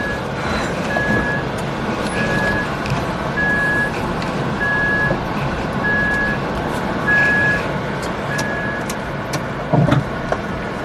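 An electric car's reversing alert repeats as a steady series of evenly spaced beeps, about eight over ten seconds, heard over a constant background of road traffic and vehicle noise.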